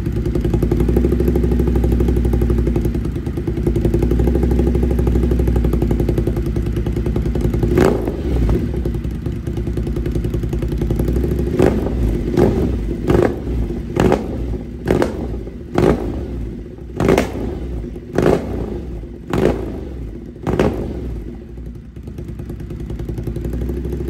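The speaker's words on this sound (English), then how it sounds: "Here's a clip of, little short clip of the exhaust." A Ducati Monster motorcycle engine idles with a deep rumble, then is revved repeatedly in sharp bursts, each blip crackling through the exhaust, close and loud.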